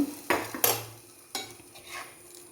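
Beef and plantain curry stirred in a pan, a few distinct scrapes and clinks of a spoon against metal over a faint low sizzle, close and fairly quiet.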